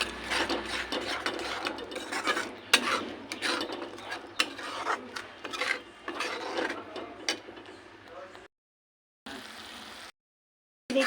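Curd and masala stirred in a pan while cooking lauki sabji, a continuous scraping and rasping of a spoon against the pan with rhythmic strokes, close and steady, then brief gaps of silence near the end.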